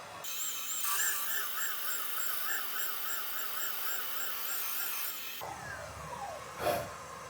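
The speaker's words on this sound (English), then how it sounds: "the oscillating sound this machine is making when we're cutting valve seats" A valve seat cutting machine working on WRX cylinder heads, giving a steady high whine with a wavering oscillation that stops abruptly, followed by quieter shop noise.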